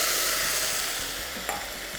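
Beetroot hits softened onions in a hot pan, giving a loud, dense frying hiss that holds steady, with a brief stirring scrape partway through.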